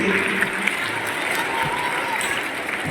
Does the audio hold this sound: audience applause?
yes